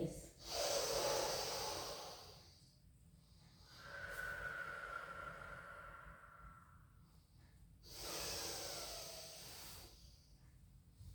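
Slow, deep breaths during a pilates child's pose, three long airy exhales spaced a few seconds apart with quieter inhales between, close and soft against a faint low background.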